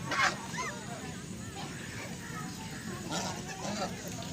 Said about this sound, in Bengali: দেখো কত রাজহাঁস, কি মজা লাগছে দেখতে